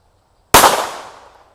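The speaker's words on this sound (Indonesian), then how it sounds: "Selanjutnya kita nyalakan mercon warna-warni." A yellow firecracker set off in water gives one sudden loud bang that decays into a hissing, spluttering tail over about a second, heard alone and close.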